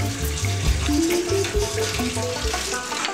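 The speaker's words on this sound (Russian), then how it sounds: "За неуклюжесть подмастерье сослали на кухню мыть посуду." Dishes being washed at a coffee shop kitchen sink, with running tap water, clinking and splashing in a steady, busy wash, with background music playing.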